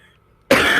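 A single sharp, loud cough bursts out close to the microphone during a tabletop role-playing game session, following a brief near-silence.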